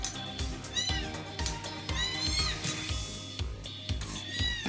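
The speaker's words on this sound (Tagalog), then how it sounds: "panay na ang meow-meow niya" A cat meows repeatedly, several insistent calls close by, over a background of light clatter and shuffling.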